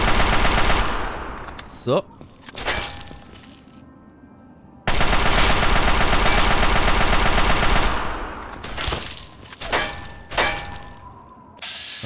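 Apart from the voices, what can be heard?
shotgun gunfire in the video game Fallout 3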